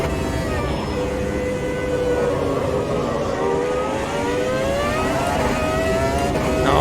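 F1 V10 race car in Automobilista 2 screaming flat out, a loud continuous high-pitched engine wail whose rising harmonics sweep upward through the gears, close and alone without talk.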